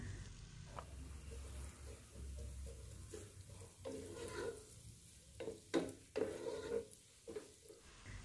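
Chopped onion frying in oil in a pot sizzles softly and steadily while a spoon stirs, with occasional clinks and scrapes against the pot at close range.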